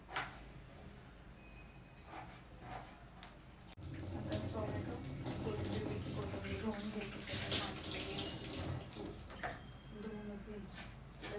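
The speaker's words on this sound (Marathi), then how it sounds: "बटाटे धुवून घेते त्याला खूप माती वेगळं धुवून घेते" Muddy potatoes washed under a running tap, a loud steady splash of water with rubbing and clunks, preceded by quieter handling and brief talk.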